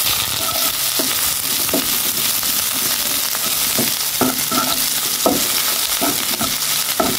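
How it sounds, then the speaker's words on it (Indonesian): Shallots and garlic stir-fry in hot oil for a chilli glass-noodle dish, a loud continuous sizzle close up, broken by repeated spatula scrapes and knocks against the pan. "Panas minyaknya, kita tumis bawang merah bawang putihnya ya."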